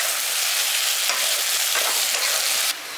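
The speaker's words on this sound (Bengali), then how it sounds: "লবণটা দিয়ে ভালো করে মিশিয়ে দিচ্ছি।" Tomatoes with salt cooking in a pan over a village stove for a date and mango-leather chutney, giving a loud, steady sizzle and hiss with a few stirring scrapes, the frying noise dropping slightly near the end; no voices.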